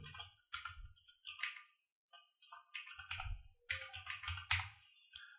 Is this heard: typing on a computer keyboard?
yes